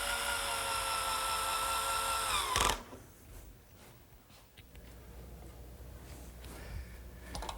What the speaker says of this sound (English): I'm just using a couple screws at each joint to act as pins.